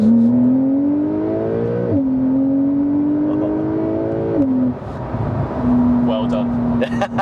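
Porsche 911 Carrera S (992) engine revving in sport mode, its strong rising tone climbing, dropping and climbing again with burbles, loud and close, steady revs toward the end.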